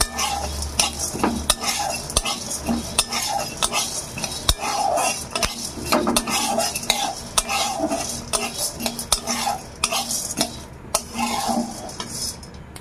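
Roasted peanuts and chana dal are scooped into a mixer jar with a metal spoon, giving repeated close scraping, clinking and rattling strokes in an irregular rhythm, with no talking.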